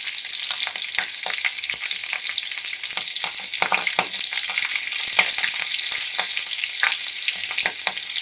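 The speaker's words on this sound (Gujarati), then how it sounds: "બધાને આપણે થોડું ચલાવી લઈશું." Green chillies, dried red chillies and spices sizzle and crackle steadily in a hot pan on a gas stove while being stirred, with soft scraping knocks scattered through the continuous frying hiss.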